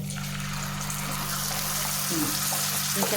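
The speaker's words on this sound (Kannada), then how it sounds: "ನೀರು ಹಾಕೋಣ" Water is poured into jaggery in a hot pan while making avalakki (beaten rice) laddu, giving a steady hissing sizzle close by that grows slightly louder toward the end.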